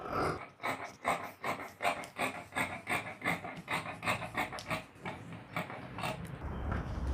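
Scissors cut through fabric along a paper sewing pattern for a long Japanese-sleeve dress. The snips come close and crisp in a steady repeating rhythm, about a dozen in quick succession, with rustling cloth underneath.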